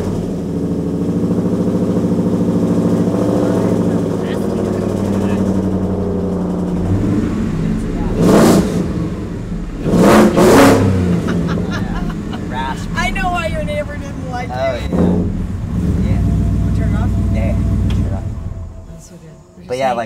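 A 1960 Ford F250 crew cab truck with a swapped Coyote engine starts up and revs in loud, rising bursts, its idle rumbling steadily underneath while people talk nearby throughout.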